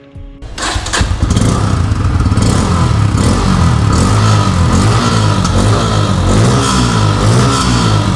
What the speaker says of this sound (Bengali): এই বাইকের এক্সস্টে হচ্ছে আন্ডারভেলি এক্সস্ট, যার কারণে এই বাইকের যে এক্সস্টের সাউন্ড সেটাও স্পোর্টি সাউন্ড